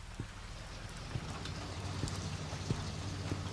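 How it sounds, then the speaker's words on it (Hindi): Rain falls steadily in a video game, a soft, faint hiss with scattered drops tapping on a surface and no talk over it. "बारिश हो रही है।"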